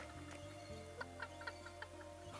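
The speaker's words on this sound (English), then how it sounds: "Just smack the chickens with something, then chase them into the coop here" Chickens in Secrets of Grindea cluck in a series of short, quick clucks over a soft, steady game music backdrop, fairly faint overall.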